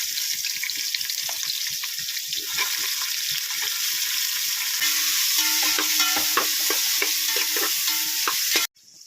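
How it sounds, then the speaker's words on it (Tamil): Onions frying in a pan for village-style chicken biryani give a steady, loud, close sizzle with scattered crackles and stirring scrapes, continuous for about nine seconds before cutting off abruptly. "வெங்காயத்தை முதல்ல போடணும்."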